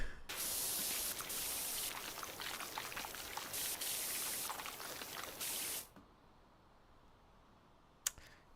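Pressure washer spraying in the video game PowerWash Simulator: a loud, continuous hissing jet that pulses in short bursts for about six seconds, then cuts off, leaving near silence and one sharp click.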